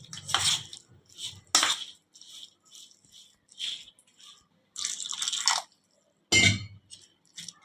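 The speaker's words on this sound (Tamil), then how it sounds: "தண்ணி சேர்த்து நல்லா கலந்து விட்டுலாம்." Rava and curd batter stirred with water in a bowl, a spoon clinking and scraping against the sides in irregular bursts with short pauses between strokes, close and fairly clear with no talking.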